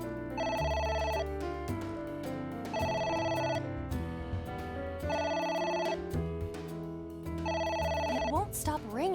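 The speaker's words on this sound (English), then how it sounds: "It won't stop ringing." A telephone bell rings repeatedly in a steady pattern of four bursts, with a musical background beneath and no clear speech.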